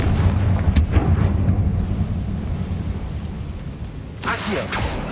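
Spell explosion blasts from Confringo cast in Hogwarts Legacy, fired inside a goblin mine, heard as booming bursts over constant rumbling game ambience, with a sharp crack near the start and another loud blast near the end.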